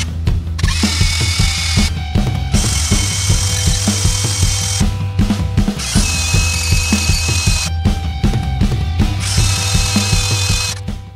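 Power drill whines steadily in several long bursts, stopping briefly between them, close and loud, drilling a pilot hole into steel with a small bit.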